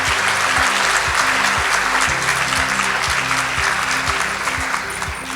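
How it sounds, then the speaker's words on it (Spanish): Audience applause at a church assembly, a sustained wash of many hands clapping with a few stronger low thumps, loud and continuous before easing slightly at the end. "creo que se merecen un muy buen aplauso para empezar"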